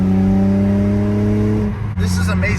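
An airbox intake roars with a loud, sustained drone from a car fitted with a carbon fiber plenum, close up, before easing off near the end as a voice speaks.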